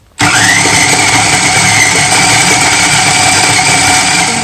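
A blender chopping pieces of Marseille soap into small grains, a loud motor that starts abruptly and keeps up a steady, high whirring drone throughout, with no voices.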